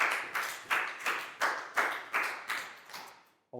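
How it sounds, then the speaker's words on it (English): A Year 4 English class gives a round of applause for a student, heard as about eight distinct bursts of clapping in a steady rhythm, each fading before the next, the group sounding near and fairly light. "a big round of applause for Pangpon"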